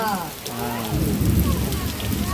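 Heavy rain pours down steadily, a dense roar of falling water that grows louder after a faint voice-like tone at the start.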